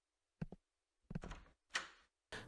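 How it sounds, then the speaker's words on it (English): A door opening in the horror game Insomnis, heard as a few short knocking thunks followed by a brief scraping creak and a latch-like clunk, close and fairly quiet. "So now leave the room and go through the door in front of you."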